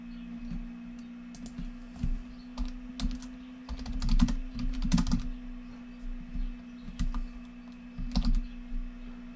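Keys clatter on a computer keyboard as a street address is typed into real estate CRM software, close and fairly quiet, in irregular bursts of clicks with a steady low hum underneath.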